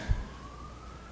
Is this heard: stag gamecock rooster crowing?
no